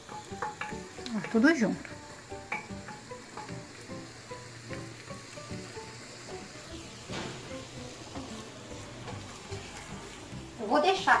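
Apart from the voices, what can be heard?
sautéing food sizzling in pan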